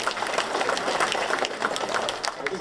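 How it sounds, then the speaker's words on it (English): An awards banquet audience claps with hands switched to the opposite way, producing a dense, continuous patter of applause from a crowd, with some speech mixed in. "give David and his team one more big round of applause, but this time, instead of clapping the same way you always do, switch your hands over"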